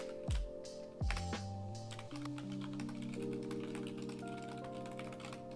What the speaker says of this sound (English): Let's keep typing.